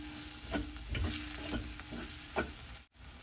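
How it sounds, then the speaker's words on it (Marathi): Grated coconut and tomato sauté in a pan for a snake gourd curry, a soft, steady sizzle with a few scraping stir strokes and a brief dropout near the end; no one speaks. "हे सुद्धा आपण छान परतून घेऊया."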